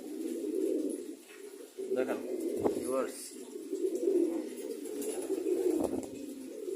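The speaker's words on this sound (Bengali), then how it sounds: "দেখেন কবুতরগুলো উঠতেছে" Domestic pigeons coo repeatedly in low, rolling calls close by as they are released into morning sun, with someone talking over them.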